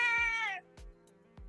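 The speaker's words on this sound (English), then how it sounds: "I can hear your kitty." A house cat in an apartment during the Shanghai lockdown gives one drawn-out, bright meow close to the mic, followed by a few soft low thumps, with no talking.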